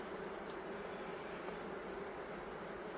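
Honey bees buzz steadily inside an opened hive, a dense continuous drone heard close and unbroken, with no voices.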